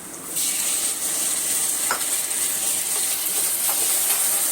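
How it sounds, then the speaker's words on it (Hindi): Tomatoes hit fried onions in a hot pan, setting off a loud, steady sizzle and hiss that carries on throughout, with a faint stirring scrape or two mixed in. "अब इसमें डालती हूँ मैं ये टमाटर"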